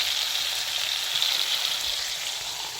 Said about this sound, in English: we have 4 currently cooking hamburger patties